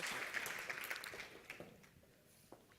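Applause from a conference audience at a tech summit, a fairly faint patter of claps that thins out and fades over a few seconds, with scattered louder individual claps near the end.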